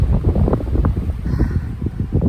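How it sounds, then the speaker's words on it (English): Strong wind buffets the microphone in continuous low rumbling gusts in a vegetable garden, loud and close, with no voices. "Ooh, it's getting windy."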